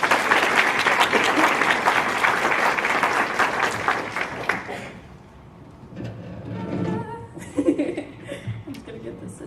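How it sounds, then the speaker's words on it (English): An audience claps loudly and steadily at a high school music conference session for about five seconds, then the applause fades and a few scattered laughs and light chatter follow. "please give a warm round of applause for Caitlin"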